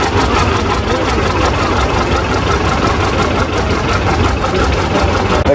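A John Deere G tractor engine running at a steam and gas engine show, a loud, steady, throbbing idle with rhythmic knocking pulses continuing without a break.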